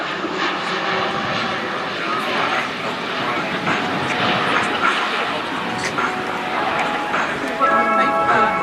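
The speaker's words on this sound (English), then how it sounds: "Keep the engines under control, setting the right one on the idle position and the left one on the height of its power." Aircraft engines roar during an air display flight at the Royal International Air Tattoo, RAF Fairford, a loud continuous drone with shifting pitch and a rising whine near the end.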